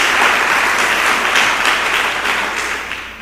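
A church congregation bursts into loud, sustained applause, a thick roar of many hands clapping that holds strong, then tapers slightly toward the end.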